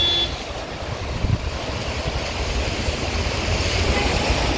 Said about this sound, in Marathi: समुद्राच्या लाटा, पहा कसा आवाज येतोय समुद्राचा